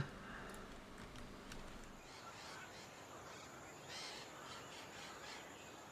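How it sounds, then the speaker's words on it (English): Macaw parrot calls in the wetland ambience of the Terra Nil video game, faint and distant high chirps and squawks scattered over a steady low background hum, with no voices. "Aw, it's macaws."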